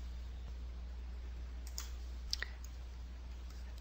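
A computer mouse clicks a few times, faint, sharp and close, against a steady low hum with no speech.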